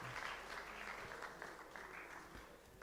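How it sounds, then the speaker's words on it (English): A crowd at a launch party gives a round of applause for a team captain, a faint continuous patter of clapping from a distance. "Round of applause, please, for the Africa 11 captain."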